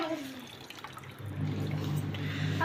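Water runs and splashes while something is washed at home, a soft trickle that grows into a steadier, louder flow partway through.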